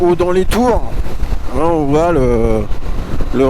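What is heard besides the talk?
None of the usual background noises is heard.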